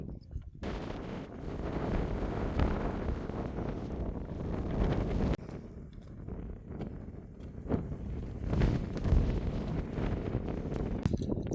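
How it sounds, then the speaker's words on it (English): Strong gusting wind on a ridge top near Scarth Gap, Buttermere, Lake District, buffets the microphone with deep, rumbling roars that rise and fall, loud and close throughout. "So obviously it's pretty windy up the top."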